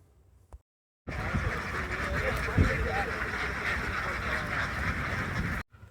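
A large flock of farm ducks climbs a ladder onto a boat while being moved between wetlands, filling the scene with a dense, continuous chorus of loud, close quacking that starts abruptly, with voices faintly mixed in.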